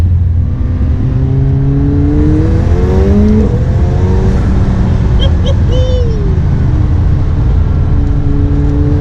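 A McLaren 720S engine revs up and down in rapid sweeps, with quick downshift blips under the loud steady drone of the car on the road, and no talking.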